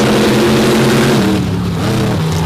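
DCT Power Sports race machines idling loudly at the staging line at Bloomsburg, a dense, rumbling engine drone with steady low harmonics and slight pitch shifts, close and continuous.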